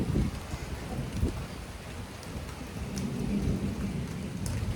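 Rain patters steadily with a low rumble of thunder rolling in the background, moderately quiet and continuous.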